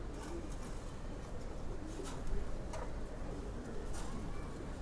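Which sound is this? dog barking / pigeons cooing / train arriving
pigeons cooing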